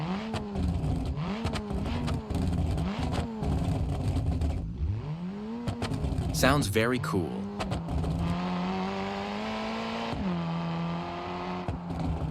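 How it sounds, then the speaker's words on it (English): A VW Golf R engine in the BeamNG driving game revs up and down in repeated loud pulls, with a brief tire squeal midway and then a sustained high drone, as someone speaks over it. "But let's listen to the Golf R now."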